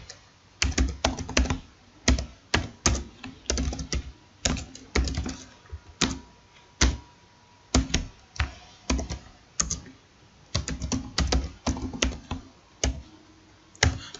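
Typing on a computer keyboard while filling in code, bursts of quick, close keystrokes separated by short pauses, clear and alone with no talking.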